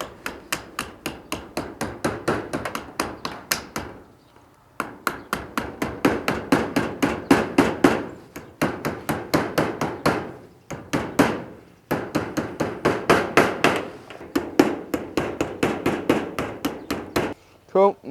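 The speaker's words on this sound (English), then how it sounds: "I'll grab my hammer and I'm going to hammer these down" Rapid bursts of hammer blows strike metal flashing on a shed being built, dozens of sharp close hits in quick runs separated by short pauses.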